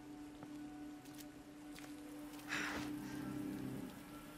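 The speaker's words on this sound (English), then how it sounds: "If you walk in the, rain, your character reacts." Rain patters steadily in Resident Evil 2 Remake, a soft constant hiss of drops on surfaces, swelling a little louder in the later half over a low background hum.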